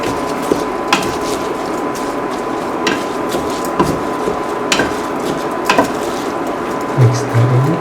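A spoon scrapes and clacks in a pot as soaked rice is stirred into a tomato and potato mixture, steady scraping with scattered sharp taps at irregular intervals, up close.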